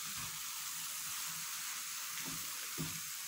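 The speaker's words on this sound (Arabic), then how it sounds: "شوفوا معايا التحميره حيت كنديرها فوق الزيت كتعطيني الكولورون" Tahmira sauce base of aromatics gently sizzling in hot oil in a home kitchen, a steady soft hiss with faint stirring bumps, quiet and close.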